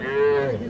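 A calf or other cattle gives one close, loud, drawn-out moo at the Ambari livestock haat in Parbatipur, Dinajpur, where small calves are traded.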